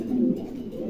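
A Bokhara pigeon coos in a low, throaty, continuous murmur, close and fairly loud, swelling briefly near the start before settling into a steady hum.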